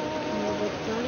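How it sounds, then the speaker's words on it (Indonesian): Steady rain falls in a remote Papuan setting, a dense continuous hiss with no breaks or voices, close and even in level throughout. "Kenapa tidak tunggu ini hujan reda?"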